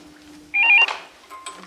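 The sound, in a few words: telephone ringing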